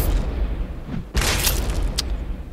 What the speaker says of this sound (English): Was the second explosion necessary?